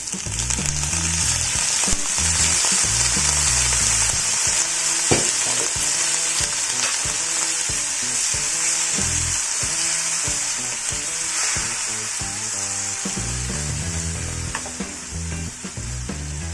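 Pumpkin pieces sizzle in a pan with a pinch of salt and a splash of water, a loud continuous frying hiss with intermittent stirring clatter throughout.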